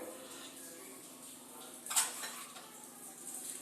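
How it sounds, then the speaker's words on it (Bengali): Taro stolons are mixed with oil and Kashmiri chili powder in a pan, making soft, faint stirring scrapes. A single sharp metallic clink of a spoon on the pan stands out midway. "খুব ভালো করে এবার মশলার সঙ্গে কচুর লতিটাকে খুব সুন্দরভাবে ভালো করে মাখবো"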